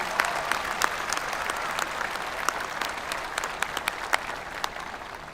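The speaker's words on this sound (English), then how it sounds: "Please join me in a round of applause." Audience applause fills the hall at the 2022 Canyon High School graduation ceremony: a steady, moderately loud wash of many clapping hands with scattered sharper claps standing out, lasting the whole stretch without a pause.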